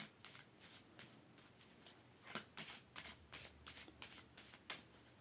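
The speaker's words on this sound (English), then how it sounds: "Always got to shuffle them." A deck of tarot cards shuffled in quick, crisp riffling bursts, about a dozen short flutters close up, with no talking.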